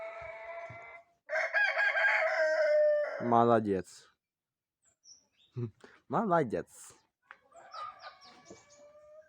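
A rooster crows nearby with some clucking, and someone speaks softly between the calls.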